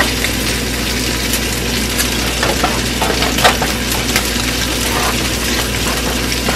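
Minced garlic sizzles steadily in a hot frying pan as it is swirled around, a continuous loud frying hiss with small scraping bursts and no voices.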